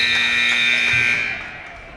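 A loud, sustained electronic buzzer sounds in a gym to end the first quarter of a girls high school basketball game, holding steady then dropping in level as it fades.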